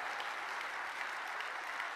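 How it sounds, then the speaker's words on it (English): Audience applause from a crowd at a creativity talk, steady and dense for the whole stretch, with faint wooing cheers mixed into the clapping. "Give yourselves a round of applause."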